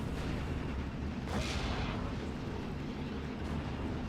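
An off-map artillery strike exploding in the World War II strategy game Steel Division: Normandy 44, a heavy blast rising out of a dense, constant rumble of battlefield noise, with a fainter second crack shortly after.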